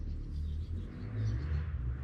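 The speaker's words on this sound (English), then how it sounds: "apparently my neighbor decided it was a good idea to just romp on a four-wheeler all day long." A four-wheeler ATV drones in the distance as a continuous low engine rumble with a slight rise and fall, steady through the whole stretch with no talking.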